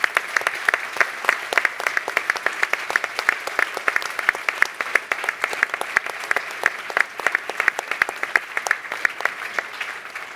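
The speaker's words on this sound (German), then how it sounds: "weil das ist euer Applaus" Steady clapping from a conference audience applauding the support staff, a dense, even patter of many hands sustained throughout without talk.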